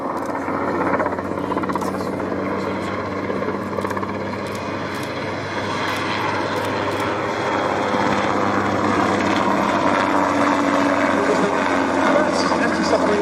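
A Westland Wessex helicopter flies at the Fly Navy air show at Shuttleworth, its rotor thudding and turbine droning steadily at a fair distance, with a commentator talking over it throughout.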